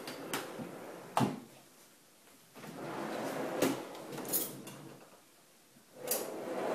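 Several kitchen drawer slides and thumps in a remodeled kitchen island, spaced irregularly with sharp knocks and soft rolling glides between quieter pauses.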